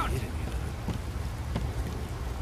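A fire spell cast in the video game Skyrim gives a steady, close rushing hiss of flame that crackles like rain for a couple of seconds, over a low rumble.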